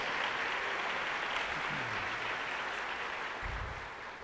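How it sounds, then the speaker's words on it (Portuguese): A church congregation applauds together during a worship service, a steady broadband wash of clapping that holds fairly even throughout and tapers slightly toward the end. "Você pode aplaudir a Jesus aí"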